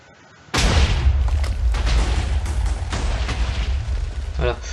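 A Minecraft TNT cannon built with slime blocks fires, and a sudden heavy boom kicks off a continuous rumbling barrage of explosions that lasts several seconds with repeated bursts.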